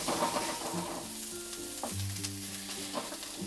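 Garlic roasting in a pan with green chillies, a soft continuous sizzle with faint stirring scrapes and clinks, close and fairly quiet, with no voices.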